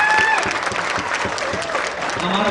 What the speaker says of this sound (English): So very thundering loud applause, please.